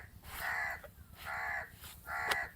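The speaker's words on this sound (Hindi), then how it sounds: "ये सुबह सुबह आ गए हैं कौवे, ऊपर देखें बैठे हुए।" Crows cawing in the early morning outside a mud house in rural Pakistan, perched overhead: three drawn-out harsh caws in a steady rhythm, fairly close and clear, with no talking.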